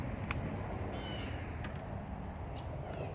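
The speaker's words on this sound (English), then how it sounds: "Birds are excited." Outdoors, birds call out with a few short, sharp caws that sound like crows, rising above a steady low background hum.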